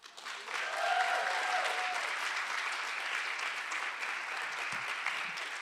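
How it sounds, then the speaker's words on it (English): Audience applause at a live poetry jam after a poem is read, a steady wash of many hands clapping that holds from start to finish with no talk over it. "we're going to keep the claps going, please, for Destiny"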